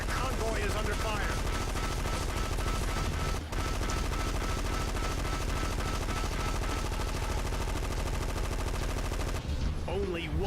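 Sustained machine-gun fire rattles nonstop during a convoy attack in the vehicle combat game Gunmetal, a loud, dense rapid stream of shots with a brief break before it cuts off near the end.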